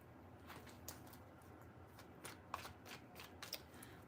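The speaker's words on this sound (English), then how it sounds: "Three shuffles." Tarot cards shuffled by hand in a quiet room, a steady soft riffling patter with a few sharper flicks and snaps standing out, close and fairly faint.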